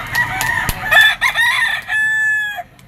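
A rooster crows loudly and close by at a chicken market in Lipa, Batangas. One long crow rises and holds steady before cutting off, with brief clucks and market clatter before it.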